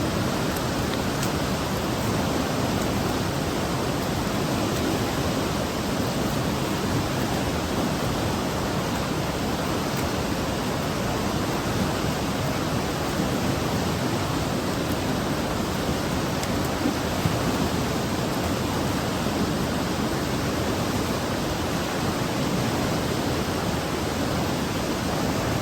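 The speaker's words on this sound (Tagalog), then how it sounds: "Sarap po pakinggan ng alon" Ocean waves wash in as a steady, unbroken roar of surf heard outdoors near a forest, with no clear breaks between swells and no voices.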